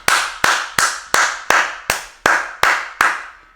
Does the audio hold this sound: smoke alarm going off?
no